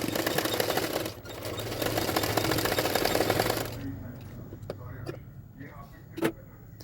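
A sewing machine stitches blouse fabric, folding a hook strip on the front part of a double katori blouse, running in a steady loud whir for nearly four seconds before stopping, leaving quiet with a few faint clicks.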